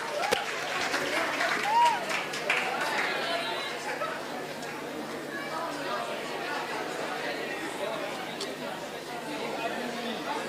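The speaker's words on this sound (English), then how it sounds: "Guys, can we have a bigger round of applause, please?" An audience at a school prize giving ceremony applauds, with clapping rising early and then settling into crowd murmur and chatter from a large hall.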